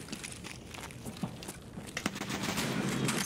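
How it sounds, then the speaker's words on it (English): Gunfire from the video game Escape From Tarkov comes in rapid, overlapping bursts of shots, with footstep-like scuffs in between. The shooting is fairly loud and continues throughout. "my gun shot too high"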